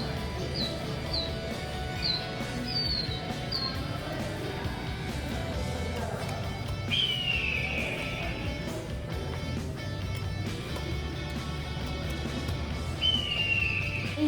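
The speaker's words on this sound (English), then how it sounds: "You can see a bird. It's called a killdeer." A killdeer, a loud ground-nesting plover, calls at a wildlife refuge: a few short high whistled notes early on, then two longer drawn-out cries, over a steady rumble of outdoor background noise.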